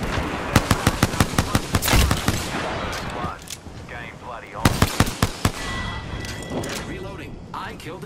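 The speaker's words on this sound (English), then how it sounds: "They're shooting at me." Apex Legends firefight with rapid, loud automatic gunfire in two bursty volleys separated by a short lull, sharp cracks close by, with a voice talking between the shots.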